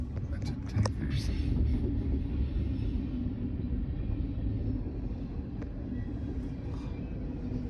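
A Canadian National freight train hauling a string of tank cars rolls past with a steady low rumble and faint wheel noise, while people chat nearby.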